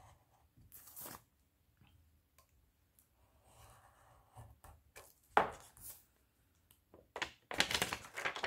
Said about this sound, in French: Là, je viens couper au bord